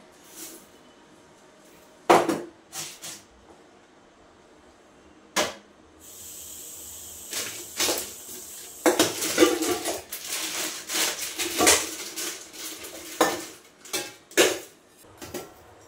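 Small kitchen containers are picked up, set down and pushed into a trolley, giving close clattering knocks, scrapes and rattles that come in uneven bursts without talk.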